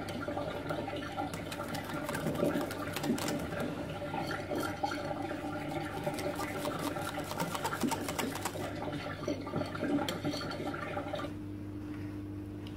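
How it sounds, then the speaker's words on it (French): Cheesecake batter with cornstarch being whisked by hand in a bowl, a quick, continuous clatter of the whisk against the bowl that stops near the end, moderately faint and with no talking. "Je vais quand même essayer de l'introduire maintenant et bien fouetter sans avoir des grumeaux."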